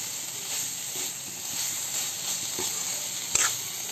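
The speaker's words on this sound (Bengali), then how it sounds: "কিছুক্ষণ সময় আমি একটু নেড়ে চেড়ে কষিয়ে নিচ্ছি।" Soybean chunks sizzle and hiss as they are stir-fried in cooked spice paste for a vegetarian soybean and potato curry, a steady close frying sound with occasional scrapes from stirring.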